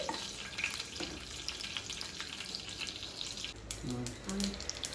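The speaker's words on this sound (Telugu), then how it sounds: "ఆయిల్ వేడైన తర్వాత ఇందులోకి ఒక అర స్పూన్ ఆవాలు ఒక అర స్పూన్ జీలకర్ర వేసుకోవాలి" Mustard seeds, cumin and dried chilli fry in hot oil, making a steady bright sizzle with scattered crackles and pops.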